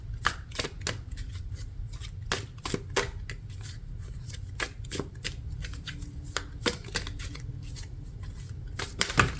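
Tarot cards being shuffled, a run of quick crisp riffles and slaps repeating irregularly at close range, with a low steady hum beneath and no talking.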